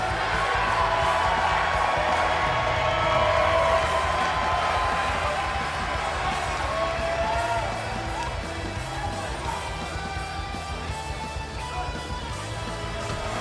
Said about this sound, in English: The crowd is on their feet for Miguel.